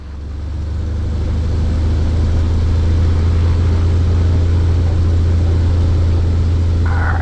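A 1957 Cessna's piston engine held at 1,700 RPM during a run-up: a loud, steady propeller drone with a strong low hum that swells in the first second, then holds constant and close.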